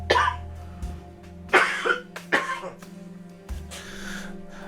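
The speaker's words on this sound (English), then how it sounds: "Sorry, I have a little cough." Several sharp coughs, close to the microphone, separated by pauses and followed by a softer exhale over a low steady hum.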